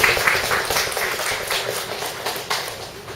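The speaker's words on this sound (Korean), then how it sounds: "우리 박수로 환영할까요?" A church congregation applauds to welcome visitors, a short burst of scattered hand clapping from a small crowd, fairly close and steady, fading slightly toward the end.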